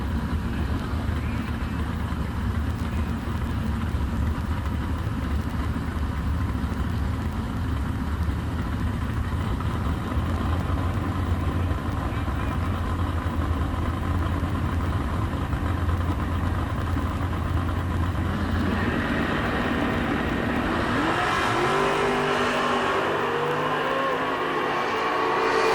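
A drag racing car, a '65 Chevelle among the entrants, idles with a steady low rumble at the strip for most of the stretch, then revs hard and launches, its engine note climbing and pulling away.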